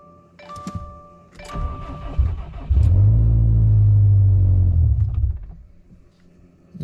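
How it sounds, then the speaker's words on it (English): A car with a freshly flashed engine map cold-starts on a cold day: short cranking bursts, then the engine catches with a loud rev and settles into a high steady idle before dropping back, close by. "And cold start. Let the fuel prime a little bit."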